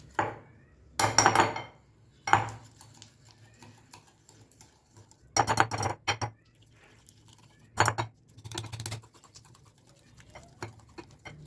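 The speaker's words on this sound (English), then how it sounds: "keep whisking it by using a whisk until the butter feels smooth" Unsalted butter whisked by hand in a bowl, heard as bursts of quick metallic scraping and clinking that start and stop in irregular clusters, fairly close, with quiet gaps between and no talking.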